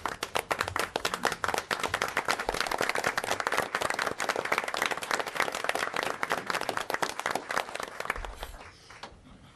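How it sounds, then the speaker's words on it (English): A standing audience claps for Sister Cassandra Gaines at an evening public meeting: dense, fast, continuous applause from many hands, fairly close, tapering off at the very end. "Can we all stand and just clap?"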